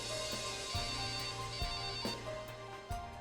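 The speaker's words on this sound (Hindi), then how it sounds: "सर आपका मोबाइल बज रहा है क्या?" A mobile phone ringing inside an office cabin, a steady electronic ringtone with repeating tonal notes heard at moderate volume against room noise and occasional thumps, no talking.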